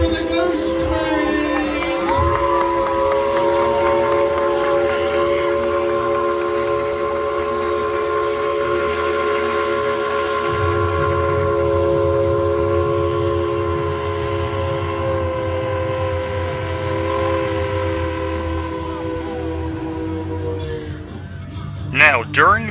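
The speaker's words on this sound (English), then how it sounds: "Some noise for the ghost train!" The Tweetsie Railroad Ghost Train at a Halloween festival sounds a loud, sustained chord-like whistle and horn for about twenty seconds, with train rumble building underneath and a burst of noise at the end.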